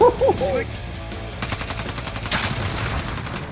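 Shooter video game gunfire: a sustained rapid burst of automatic shots begins partway through and keeps going steadily to the end, after a short opening of other game sounds.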